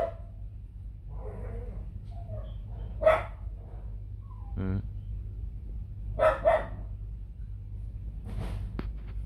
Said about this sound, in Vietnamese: Cái đàn chó con sủ trắng này thì vài hôm nữa mình sẽ quay lại video của chúng nó.